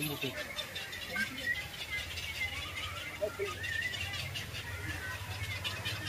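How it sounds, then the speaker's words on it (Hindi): Birds call at Rani Baug zoo in Mumbai, with faint scattered chirps rising over steady background hum and crowd noise while someone talks throughout. "हे बघा पक्षी, हे बघा आवाज करतात आवाज करतात बघा."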